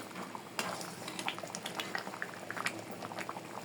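Masoor lentil dal nearing the end of cooking bubbles in a pot, with close, busy popping and gurgling plus a few light clinks of utensils against the pan; no speech.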